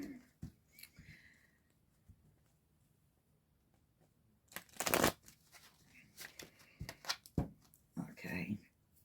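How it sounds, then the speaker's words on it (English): Tarot cards are shuffled by hand in short, irregular bursts of riffling and flicking, close and crisp, with quiet pauses between them and faint talking. "The reason why I'm having to shuffle these cards like this"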